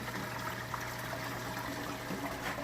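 Water flowing steadily into a saltwater coral reef aquarium sump filtration system, a faint, constant trickle and rush with a low pump hum underneath.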